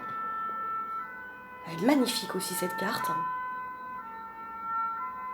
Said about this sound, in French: Pardon pour le bruit de la sirène dehors.